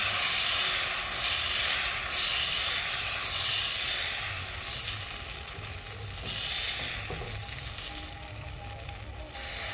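Batter sizzling in white oil on a hot tawa griddle, a steady loud hiss and crackle of frying that continues without pause.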